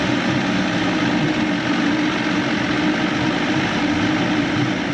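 An Evinrude 150XP outboard motor on a McKee Craft boat runs steadily with a loud, continuous drone and no break in level, while the engine is being checked for a loss of power.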